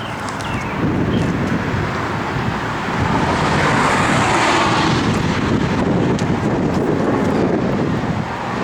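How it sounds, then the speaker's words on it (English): Loud, continuous wind buffeting a microphone outdoors beside a 1967 Oldsmobile 442, a heavy rumbling roar that stays steady throughout with no voices. "Windy here today."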